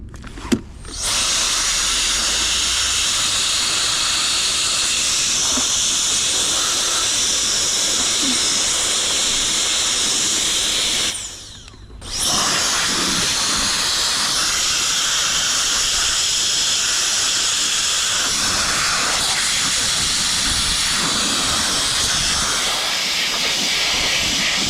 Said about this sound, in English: Alright, we're going to spray it with this DeoxIT.